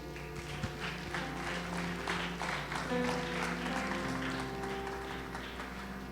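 A church congregation applauds in a steady wash of clapping, with sustained tonal music held underneath throughout.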